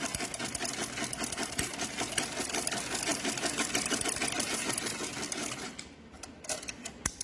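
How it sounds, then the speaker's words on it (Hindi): A sewing machine runs steadily, back-stitching a small Laddu Gopal (Bal Gopal) dress, with a dense rapid needle chatter for most of the clip before it slows and stops into a few scattered clicks near the end. "ये देखिए अब इस तरीके से हमें बैक सिलाई मारेंगे ताकि ये थोड़ा पक्का हो जाए"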